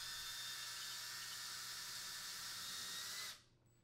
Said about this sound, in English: be sure to drill pilot holes for the mounting screws to avoid splitting the cabinet wood